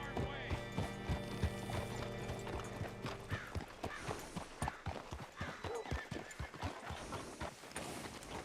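Horse hooves clip-clopping in Red Dead Redemption 2, a close, rhythmic run of hoofbeats under voices, with a whinny-like sound and mechanical clinks earlier.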